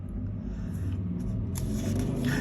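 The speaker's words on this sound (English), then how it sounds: "Sorry about the traffic, guys. The windows are open." Street traffic drifts in through open windows, a steady low rumble of passing cars with a vehicle swooshing by near the end, fairly close.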